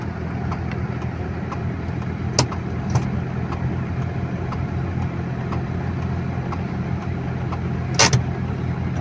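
A used Maruti Swift Dzire diesel sits idling, its engine humming in a steady, close, even rumble throughout, broken by a couple of brief sharp clicks or knocks, with no one talking.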